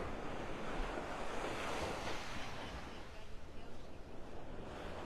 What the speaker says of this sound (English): All right, I'm on Vanderbilt Beach.